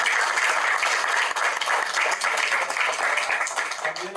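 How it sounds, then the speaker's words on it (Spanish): Warm applause from an audience at an evening talk in Guayaquil greets a lawyer taking the stage, a dense, steady clapping that fills the whole stretch at a moderate level. "Por favor, lo recibimos con un caluroso aplauso."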